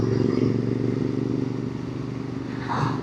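A Royal Enfield 650 motorcycle with inter foot pegs rides along in cold weather, its engine a steady loud rumble under heavy wind buffeting, with a brief louder swell near the end.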